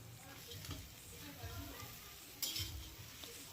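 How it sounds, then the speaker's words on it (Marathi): Onion chutney with fried dried Bombay duck fish being stirred and sautéed in a pan, a steady close sizzle with scraping spoon strokes and a sharper clink of utensil against metal partway through. "आता बघा इथे सुके बोंबील जे आहेत आपले तळलेले ते घालून घेऊया"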